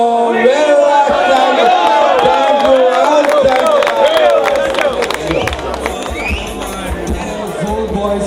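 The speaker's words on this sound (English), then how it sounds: "we have a wonderful crowd out here" A crowd cheers and shouts at the Siolim Sao Joao festival in Goa, a loud, dense wall of voices with scattered claps and whoops that keeps going for the whole stretch, easing slightly toward the end.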